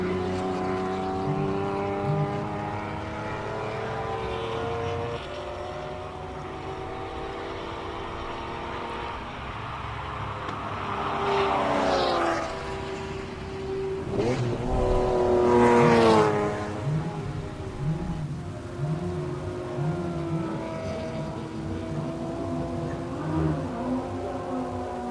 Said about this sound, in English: just listen to the Ferrari